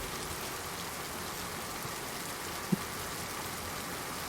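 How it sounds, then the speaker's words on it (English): Thick, heavy rain as steady background ambience in a tabletop role-playing session, a constant dense hiss at even level with one brief soft knock near the end. "Is there a reason the rain is so loud?"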